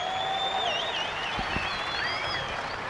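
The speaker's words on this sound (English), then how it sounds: "how about a nice round of applause, a warm round of applause for four-time All-Star champion Frankie Kerr" An outdoor crowd at an All Star Circuit of Champions sprint car night in Fremont, Ohio applauds a four-time champion, a faint spread of clapping with a few whistles over a steady background wash.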